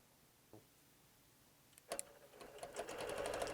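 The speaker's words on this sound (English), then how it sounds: "I can't wait to show you how it sews" Bernina Q24 longarm quilting machine starting to sew, a faint click and then a rapid, steady mechanical stitching rattle that builds and runs continuously, close and fairly quiet.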